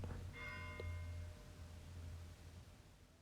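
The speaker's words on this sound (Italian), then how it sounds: "ora stanno suonando le campane" Church bells ring alone in the distance with a steady, sustained metallic tone, the ringing continuing without break and slowly easing off toward the end.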